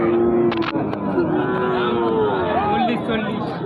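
Sahiwal calves and other cattle mooing at a crowded village cattle market in Panchbibi, several long, loud, drawn-out moos close by, with people talking throughout.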